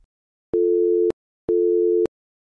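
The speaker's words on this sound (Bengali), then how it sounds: "অঞ্জলি এই বলে ফোনটা কেটে দিল।" Two identical busy-signal beeps from a cartoon telephone after a call is hung up, each a steady electronic tone about half a second long, separated by a short silence, clean and alone.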